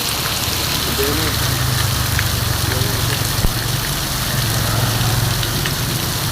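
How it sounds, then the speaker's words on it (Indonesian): A torrential downpour beats steadily on a flooding street, a loud continuous wash of rain with a low engine-like rumble underneath and occasional brief spatters, while a voice is faintly audible under the roar. "Makin besar hujannya."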